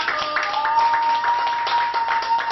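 A small studio audience claps for a music producer during a broadcast, a brisk cluster of hand claps over a faint steady hum.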